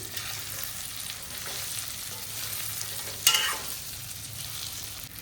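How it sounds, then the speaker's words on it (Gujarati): Spice mix for stuffed brinjal being stirred in a pan, with a soft steady sizzle and scraping throughout and one sharp clink of a spoon against the pan partway through. "હવે આ બધાને આપણે મિક્સ કરી લઈશું"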